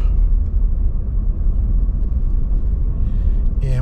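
A Ford F150 with a 3.5 V6 EcoBoost twin turbo engine gives a low, steady rumble at close range for a few seconds, with a brief higher sound near the end.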